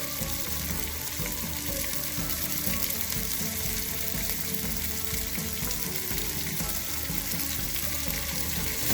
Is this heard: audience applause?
no